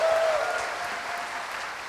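A church congregation claps steadily during a worship service, a continuous moderate wash of applause with a faint sustained tone and distant voices beneath.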